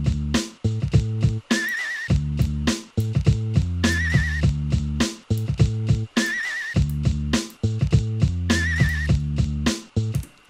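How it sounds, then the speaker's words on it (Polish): A horse neighing sample repeats in an FL Studio hip-hop beat in the Cypress Hill style, whinnying four times over a loud, steady looping pattern of drums and bass. "tam będziemy mieli rżenie konia"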